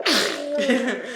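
A single sneeze from a nearby person, sharp onset then a drawn-out voiced tail, loud and alone over about a second.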